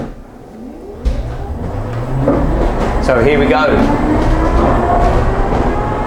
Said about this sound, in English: a battery powered train, and it's quite loud actually